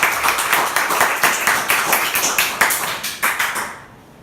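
A church congregation claps in a steady, rhythmic burst of applause, loud and close, fading out at the very end.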